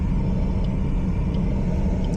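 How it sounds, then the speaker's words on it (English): A car engine crawling along in first gear on a driving test route through Hull traffic gives a steady, close, low rumble with no break throughout. "First gear just crawling along"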